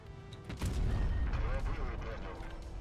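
A T-34-3 tank cannon fires in World of Tanks Blitz, one heavy booming shot with a rolling low rumble that lingers and fades, heard up close over game noise.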